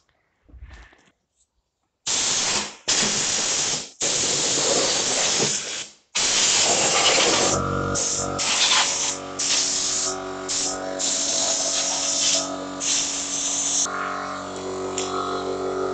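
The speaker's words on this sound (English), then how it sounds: "So I'll get the air compressor out and there it is." A blast of compressed air from an air compressor nozzle hisses loudly in repeated bursts of a few seconds each as it blows dust off an electric ride-on lawnmower.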